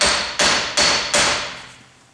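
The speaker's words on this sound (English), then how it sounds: "Just tap the end of the hammer." Three sharp metallic hammer taps on a Honda outer CV axle joint, evenly spaced about a third of a second apart, each ringing briefly before fading, with no voices.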